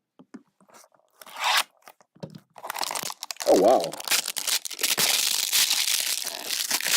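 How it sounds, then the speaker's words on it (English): Crunchy cellophane wrapper on a sports card being crinkled and torn, loud crackling bursts that build into a sustained dense rustle, with a brief spoken exclamation partway through. "That's some really crunchy cellophane."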